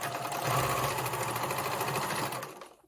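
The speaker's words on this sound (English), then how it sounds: "we're going to sew the end so that this webbing can't just slip out from the buckle" A sewing machine stitches the end of a strap of webbing in a steady, fast mechanical whir with a regular needle rhythm, close up, then stops abruptly near the end.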